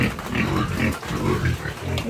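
Pigs grunting and oinking in a farm pen, a run of short, low snorts and grunts close by, repeating in uneven bursts with no talk over them.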